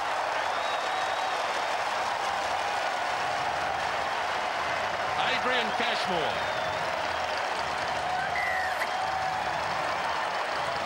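A rugby stadium crowd at a 1997 Super 12 match roars and applauds after a try, a steady broad wash of cheering under a commentator's continuous talk.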